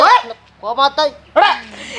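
Village dogs yelp and bark in short, high bursts close by, mixed with people talking loudly around them.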